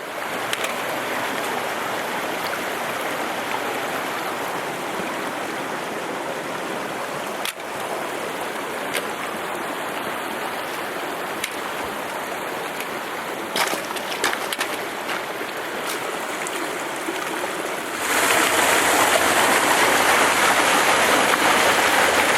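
Steady rushing water of a low-flowing mountain stream in the Great Smoky Mountains, with a broadband wash throughout, swelling louder near the end, with a few brief knocks and clicks on top.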